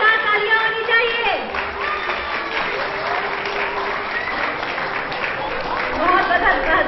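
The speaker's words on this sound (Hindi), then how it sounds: "बहुत जोरदार तालियां, जितनी दमदार इनकी प्रस्तुति थी उतनी दमदार तालियां होनी चाहिए।" An audience at an Independence Day programme claps steadily after a performance, a dense wash of applause lasting the whole stretch and swelling slightly toward the end.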